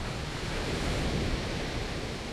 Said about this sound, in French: les vagues géantes de Nazaré peuvent atteindre le record mondial de 30 mètres de hauteur.